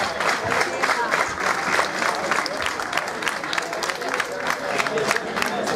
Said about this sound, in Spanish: Quiero un aplauso por un amiguito que voy a subir al escenario también.